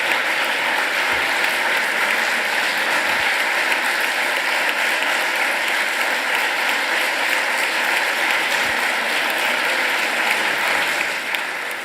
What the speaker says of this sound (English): That is rousing applause, Justice Bayer.